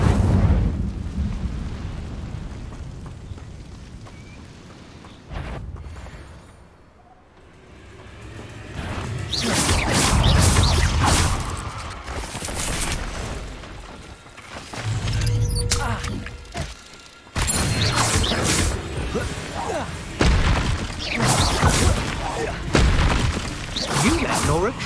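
The Incendio fire spell is cast repeatedly in the Hogwarts Legacy video game, with loud whooshing bursts and booming flame blasts that come in waves over a game soundtrack, mixed with characters speaking.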